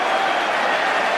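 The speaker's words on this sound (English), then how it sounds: "a resounding cheer for England as they come back out again" Cricket crowd at an England versus India match cheering and applauding England players returning to the field, a dense, steady roar of cheers and clapping that carries evenly throughout.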